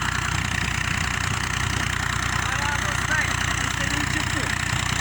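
A tractor engine runs at a steady idle, a continuous mid-low chugging drone, with faint voices now and then in the background.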